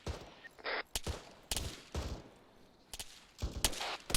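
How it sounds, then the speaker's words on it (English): Rapid gunfire in a military video game operation cracks in irregular clusters of sharp, loud shots with brief gaps, close by and echoing. "We're currently taking fire from unknown location."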